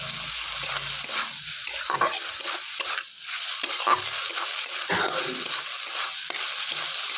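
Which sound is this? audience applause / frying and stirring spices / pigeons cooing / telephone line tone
frying and stirring spices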